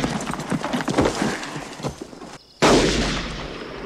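Gunshots from the 1992 western film Unforgiven ring out over clattering horse hooves and commotion, with one sharp, loud blast near the end that lingers as it decays.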